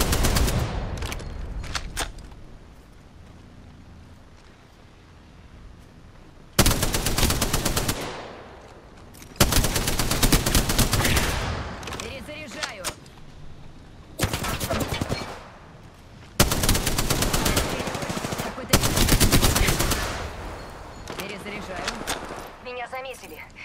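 Bursts of automatic gunfire in the battle royale shooter Apex Legends, several loud volleys a few seconds apart with short pauses between, over a steady background of game noise.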